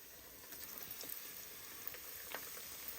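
Tamarind leaf bajji frying in hot oil, a faint, steady sizzle with scattered small pops and crackles, heard up close and alone.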